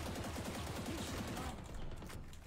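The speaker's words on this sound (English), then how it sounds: "Shoot this wall with me." Sustained, rapid gunfire sprays a wall in the video game Valorant, forming a dense, continuous barrage that holds at full loudness for the whole stretch.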